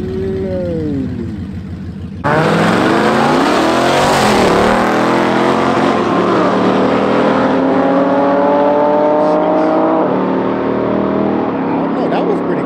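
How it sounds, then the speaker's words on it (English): Infiniti G35 revving and then accelerating hard in a street race, a low engine hum that abruptly jumps into a loud, sustained roar with rising and falling gear tones, close up. "About to run the G35."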